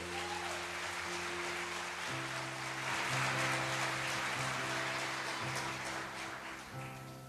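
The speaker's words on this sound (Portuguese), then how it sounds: "Aplauda o Senhor Jesus." A church congregation applauds during a sermon on spiritual battle, soft scattered clapping under sustained organ or keyboard chords, fairly quiet and continuous throughout.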